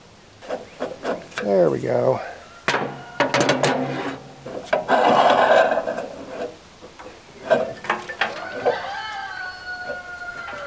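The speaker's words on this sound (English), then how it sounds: "make sure I'm cleaning the entire rotation, I guess, the entire length of the auger." Scraping and rubbing along a metal auger as it is cleaned end to end on a homestead, coming in loud uneven strokes and rasps with a short spoken remark near the end.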